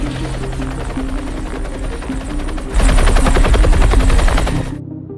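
A loud helicopter roars steadily with thudding rotor blades, growing heavier and closer partway through before cutting off abruptly.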